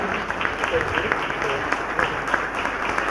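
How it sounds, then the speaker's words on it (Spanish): Applause from a gathered audience for a brother after a public exchange between a priest and a pastor, moderate and continuous clapping under nearby talk. "Un fuerte aplauso pues para este hermano"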